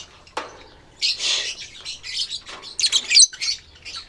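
An African lovebird calls up close, giving a sharp chirp followed by a run of loud, harsh squawks and chatters of varying length with no talk.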